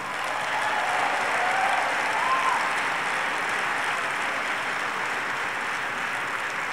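An audience claps in a broad, even wash of applause that swells slightly early and then continues steadily at moderate loudness, with no voices on top.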